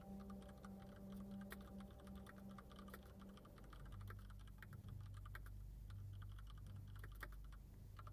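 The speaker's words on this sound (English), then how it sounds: "people who love listening to keyboard sounds" Someone types on a mechanical keyboard in a quiet, cozy indoor setting, making a steady run of soft, close, crisp key clicks, with no talk.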